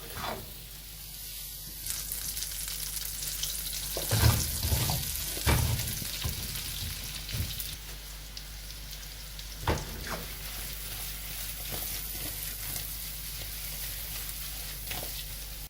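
Two kinds of apples brown in butter in a pan for a tarte tatin, giving a soft continuous sizzle with occasional clinks and stirring knocks, steady and fairly quiet throughout with no talking.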